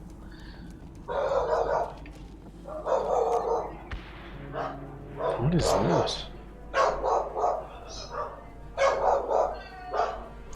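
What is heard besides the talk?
dogs barking in the house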